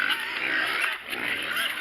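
Homestead pigs grunting and oinking in the mud at feeding time, a close, continuous squealing clamor with a brief dip midway.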